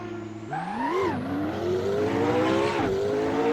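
McLaren 765LT supercar engine in the Assetto Corsa racing game, revving hard and climbing through gears with a sharp shift near the start and another near the end, loud and close throughout.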